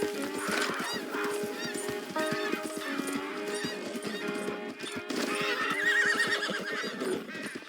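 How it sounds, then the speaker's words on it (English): A horse in Red Dead Redemption 2 whinnies and snorts over a busy in-game soundscape, with harmonic neighs rising and falling through the clip, fairly close and moderately loud. "Who's a good horse?"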